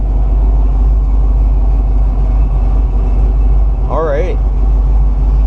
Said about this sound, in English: we're idling at 650 RPMs